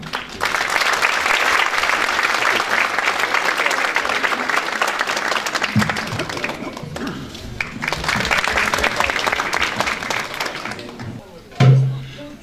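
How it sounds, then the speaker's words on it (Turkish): Audience applause for a vocal soloist at a classical Turkish music New Year concert by a Nazilli ensemble, sustained dense clapping that fades briefly midway, swells again, then ends with a short voice at the close. "Alkışlarınız solistimiz Ahmet Çakırlı için"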